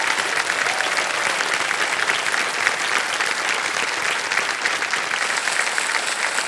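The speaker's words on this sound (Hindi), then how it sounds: "तालियां बज जाए इनके लिए" Sustained applause from the studio audience on the quiz show Kaun Banega Crorepati, a thick, even patter of many hands clapping that holds at a steady level throughout.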